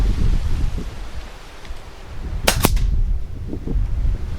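A single FX Wildcat MK2 air rifle shot cracks out sharply, closely followed by a second brief impact, over steady breezy wind noise outdoors while targets are shot at 25 metres.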